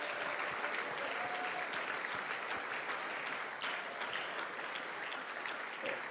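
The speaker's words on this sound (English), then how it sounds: "Please let's keep on clapping as they go out" Sustained audience applause for youth leadership debate speakers as they are ushered out, a dense steady clapping texture from a large crowd filling the whole span without voices.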